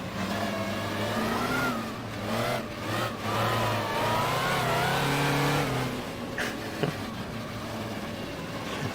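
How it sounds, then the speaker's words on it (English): A historic 1950s–60s GT racing car engine in the rFactor racing game revs up and down through the gears, a steady, close engine note with rising and falling pitch as the throttle goes on and off, heard alone. "It's a nice depth of sound actually as well, lots of different little noises going on when you're on or off throttle."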